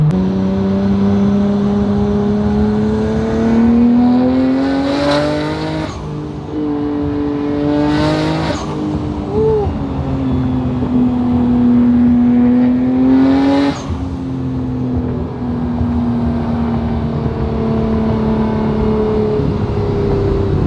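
A Nissan Skyline R33 GT-R engine revving, its turbocharged note rising and falling in several long pulls with sharp breathy bursts between revs, loud and close throughout.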